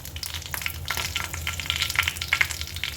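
Mustard seeds and dried red chillies splutter and crackle in hot oil, a dense, steady frying hiss dotted with sharp pops close by, with no voices over it.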